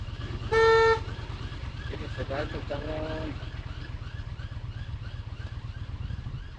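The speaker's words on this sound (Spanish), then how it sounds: "Un claxon exige avanzar" A single car horn honk rings out briefly over steady traffic rumble at a traffic light just turned green, heard from a motorcycle, followed by indistinct road noise and a faint second tone.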